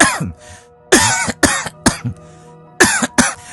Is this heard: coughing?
yes